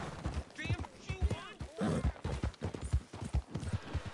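Horse hooves clip-clop in a steady rhythm in a video game, up close and fairly loud, while several voices talk over them.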